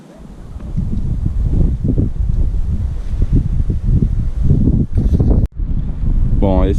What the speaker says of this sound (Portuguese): Tomara que o vento não atrapalhe.